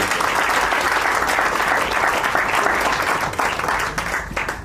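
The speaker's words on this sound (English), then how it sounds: "A big round of applause to Kareem." An audience at a company's 15th anniversary celebration gives Kareem a round of applause, a full, steady clatter of many clapping hands at close range, thinning slightly near the end.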